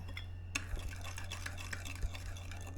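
Spoon stirring sugar in a pot or bowl to dissolve it, soft scraping and light clinking taps against the container over a low steady hum, faint and close.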